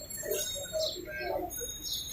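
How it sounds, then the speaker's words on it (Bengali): At a busy pigeon market, pigeons give soft coos and brief chirping calls scattered over a low, murmuring background. The calls are close and moderately loud, with no clear talk. "এই একটা মাদি কবুতর আছে,"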